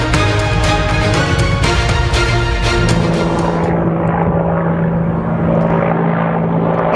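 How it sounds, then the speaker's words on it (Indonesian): An Israeli Apache attack helicopter passes in flight, its loud, steady engine and rotor drone holding throughout with no talk over it, the upper hiss thinning out partway through. "helikopter jenis Apache milik Israel menyerang Lebanon Selatan"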